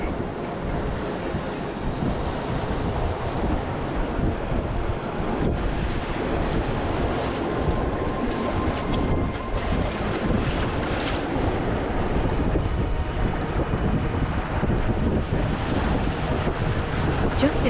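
Rough sea surges around the shore below Wat Khao Takiab in Hua Hin, Thailand, a continuous close roar of breaking and churning water mixed with gusty wind noise on the microphone.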